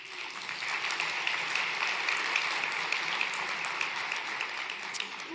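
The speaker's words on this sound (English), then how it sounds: "Let's give these folks a round of applause." A conference audience at an energy and buildings summit plenary applauds award recipients with continuous, even clapping, moderately loud and steady throughout a few seconds, no voices over it.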